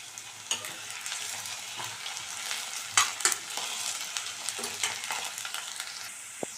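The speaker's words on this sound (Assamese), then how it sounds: "আলুখিনি ৰঙচুৱা হোৱালৈকে ভাজি ল'ম।" Potatoes sizzle in hot oil in a wok, with a steady crackling fry and sharp clinks of a spatula as they are stirred, close and alone with no voices.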